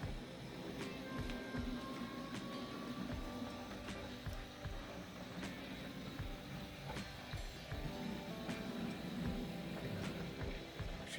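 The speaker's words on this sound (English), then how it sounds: "Actually relatively quiet for a locomotive of from 1958" A 1958 Triang Class 08 model locomotive runs steadily and fairly quietly, with a low motor hum and repeated light rail clicks throughout.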